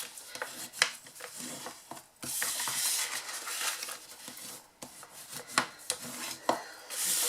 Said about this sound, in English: obviously we're going to fold and burnish all of these score lines.